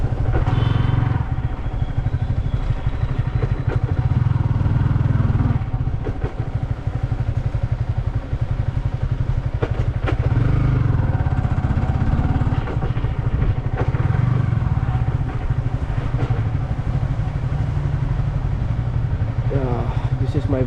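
Steady, loud engine thump of a Royal Enfield Classic 350 motorcycle being ridden, running continuously throughout with wind rumble over it.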